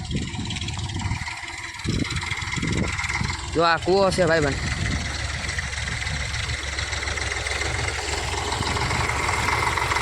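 A tractor engine runs steadily on a farm field during ploughing, a continuous low droning hum with a brief rising whine partway through, while someone speaks nearby.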